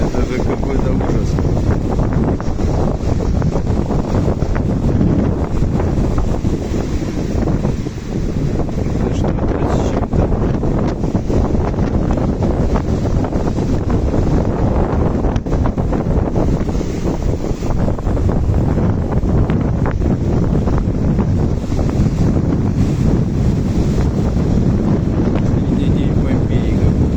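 Strong wind roars continuously across the microphone with heavy crashing surf beneath, a storm at sea at Divnomorsk with waves around three metres high, loud and unbroken throughout.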